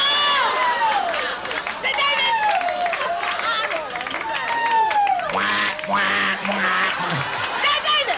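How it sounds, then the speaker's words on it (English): A duck screams and quacks in a run of loud, harsh, falling squawks, with a busy crowd-like background and a voice breaking in near the end. "Did you ever hear a duck scream?"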